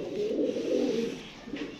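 A female pigeon coos in short, close, low murmuring notes that run steadily through the moment, no voices over them.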